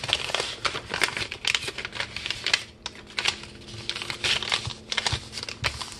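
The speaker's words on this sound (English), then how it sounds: "This is a used paper, and I fold this piece of paper in half first." A used sheet of paper is folded in half, with close, continuous crinkling and crisp rustling.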